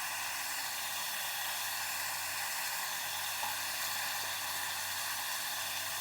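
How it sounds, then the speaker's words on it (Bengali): Cauliflower and potatoes fry in a pan, giving a steady, even sizzle and hiss that holds close and constant throughout, with no voices. "দেখুন ফুলকপি আর আলুটা আমি দিয়ে দিয়েছি, এটা একটু ভেজে নেব"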